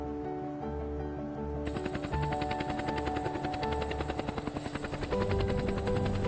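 Loud, close heli-skiing helicopter with rapid rhythmic rotor thumping over a droning engine whine, growing heavier toward the end.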